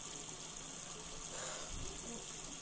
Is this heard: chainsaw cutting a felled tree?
no